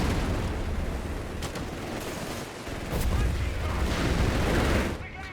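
Continuous battle din from a Company of Heroes 3 match, with Johnson light machine guns of the SSF Commander firing amid dense overlapping gunfire and explosions, steady and loud throughout, with a voice talking over it.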